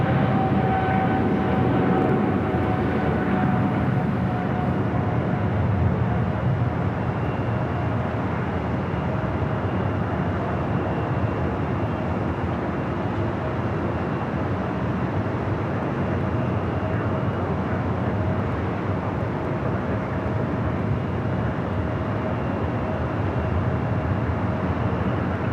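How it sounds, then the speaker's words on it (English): An Eva Air Boeing 777-300ER rolls toward runway 25 right at LAX, producing a broad, steady jet engine roar that holds at even loudness for about twenty-five seconds with a faint high whine on top. "Eva Air Flight 5 heading back to Taipei in a 777-300ER, now rolling down to 25 right"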